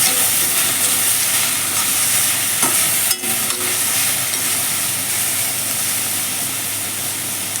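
Fenugreek leaves and moong dal stir-fry in a pan with a steady, close hiss and sizzle, broken near the middle by a brief scrape of stirring.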